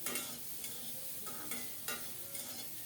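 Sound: cauliflower being stirred and fried in pan

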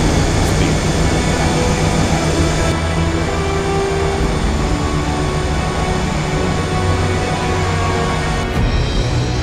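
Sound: airliner engines at full thrust during a go-around

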